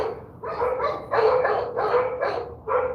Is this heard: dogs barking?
yes